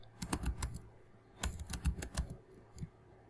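Quick, close keystrokes on a computer keyboard while coding a Laravel project, tapping in short irregular clusters with small gaps between them.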